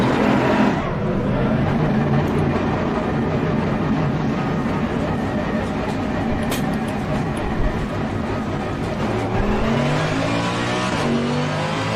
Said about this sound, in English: Engine on, ignition on, and start.